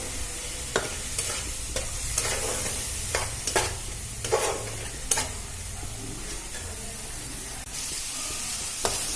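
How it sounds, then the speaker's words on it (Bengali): Ground spices fry and get stirred in a pan for okra yogurt curry, a steady close sizzle broken by repeated sharp scrapes and taps of the spoon against the pan. "গুঁড়ো মশলাগুলো অ্যাড করে দেবো। এটাকে একটু ভেজে নেব ভালো করে।"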